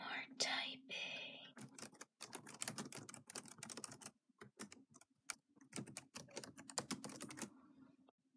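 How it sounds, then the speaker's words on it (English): ASMR typing on a computer keyboard: close, crisp clicking keystrokes in rapid bursts broken by short pauses, with soft whispering near the start. "Let's kick off this ASMR with some ASMR typing."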